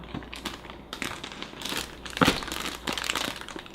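Crinkly plastic rustling and squeezing as a zip bag of kimchi is pressed down, close by, in a few bursts with a sharper crackle in the middle.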